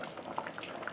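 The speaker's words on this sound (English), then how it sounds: "And then I have my water boiling for my mashed potatoes" Water boils in a pot for mashed potatoes, a faint, steady bubbling and hissing with small pops scattered throughout.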